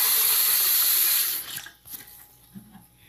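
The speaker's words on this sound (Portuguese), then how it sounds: "E vou colocando água." Water poured into a bowl of tapioca flour while mixing beiju dough: a steady, loud, close splashing pour for about a second and a half, then it stops and only faint small clinks remain.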